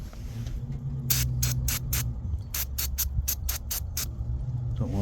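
Brake cleaner sprayed onto the oil drain plug of a 2020 Subaru Crosstrek, heard as a series of short, sharp hissing bursts in quick succession over a low steady hum, close by.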